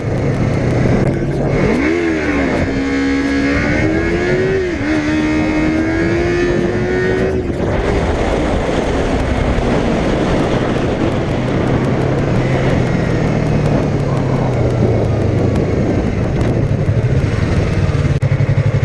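Yamaha YZF-R3 motorcycle revving in first gear for a wheelie, the engine loud and close, climbing through rising revs and then holding a steady high drone before the pitch gradually falls.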